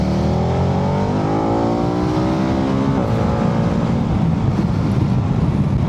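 A KTM 1390 Adventure S Evo motorcycle accelerating in automatic mode, a loud, close engine note climbing steadily in pitch with a gear change partway through, under heavy wind rush.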